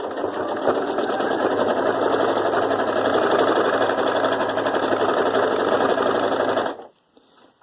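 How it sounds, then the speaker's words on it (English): Sewing machine fitted with an embroidery foot stitching fabric scraps, running in a loud, fast, steady mechanical chatter for several seconds before stopping abruptly near the end. "Have to be very careful with this embroidery foot on, because you can get your fingers very near the needle."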